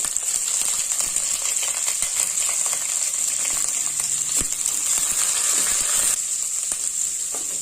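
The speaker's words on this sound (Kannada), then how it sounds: "ಇದು ಸ್ವಲ್ಪ ಮೀಡಿಯಂ ಫ್ಲೇಮಲ್ಲಿ ಇಟ್ಕೊಂಡು ಫ್ರೈ ಮಾಡಬೇಕು." Onion, chillies and curry leaves fry on medium flame in a pan, a steady, bright hiss of sizzling oil with scattered crackles and a few light clicks, continuous and close.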